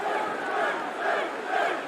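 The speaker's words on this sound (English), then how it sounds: "Listen to the chants for Finn Balor right now" Arena crowd in the WWE 2K wrestling video game chanting for Finn Balor, a steady roar swelling in rhythmic waves about every half second to second, loud and continuous with no talk over it.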